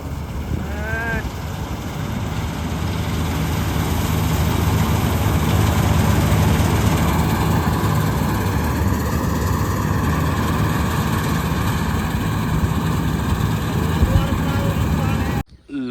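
A heavy tractor engine runs steadily at low rumble for the whole stretch, close and loud, before cutting off abruptly at the end.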